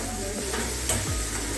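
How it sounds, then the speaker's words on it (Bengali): Onions frying in a pan for restaurant-style chicken curry, a dense, loud, close sizzle with a quick stirring scrape partway through, no talking. "পেঁয়াজটা একটু কষে নেওয়া হোক। এইভাবে 5 মিনিট"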